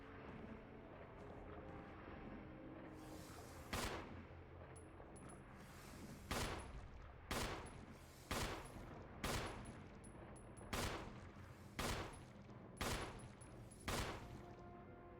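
Gunfire in the Resident Evil HD Remake video game: about ten sharp shots spaced roughly a second apart, loud and distinct over a steady low background hum.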